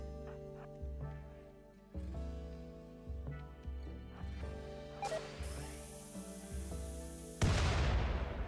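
Repeated gunfire bursts in the colony-sim video game RimWorld, sharp synthetic shots arriving in uneven clusters with a loud burst near the end, no talk over them.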